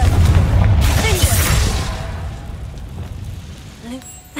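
In the Hogwarts Legacy video game, a Confringo fire spell bursts with a deep booming blast at the start, then a crackling, rain-like rumble that fades away. A voice calls out just before the blast.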